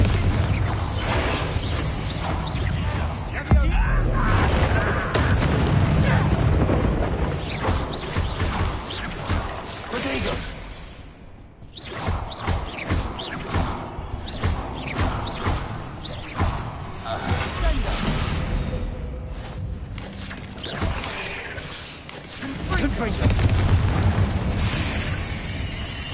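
Confringo blasting curse explosions from Hogwarts Legacy, loud booming blasts with crashing impacts layered over dense game music and battle noise, recurring across the stretch with a brief lull midway, voices talking over parts.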